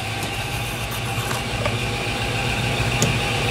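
A metal lathe turns a part at a raised spindle speed with cutting oil applied, giving a steady, continuous mechanical hum and whir with faint scattered ticks, no voices.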